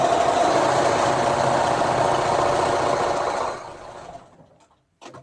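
A sewing machine runs steadily along a quarter-inch quilt seam, a close, even mechanical whir that slows and stops, followed by a brief faint noise.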